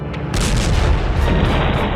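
Loud, sustained blast tied to an attack on a bulldozer in Gaza, with a sharp onset followed by a heavy rumbling roar that continues to the end.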